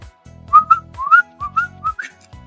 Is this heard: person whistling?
yes